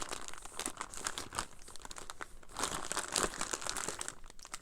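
Crinkly plastic packaging for junk-journaling craft supplies is unwrapped up close, a continuous run of sharp crackles and rustles in uneven bursts, with no talking.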